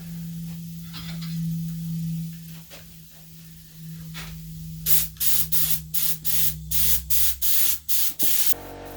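A paint spray gun, driven by a compressor, coats car wings. A steady compressor hum runs under a few short hisses, then a rapid series of about eight sharp, close spray bursts.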